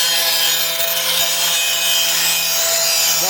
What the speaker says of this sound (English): Really sharpening his axe.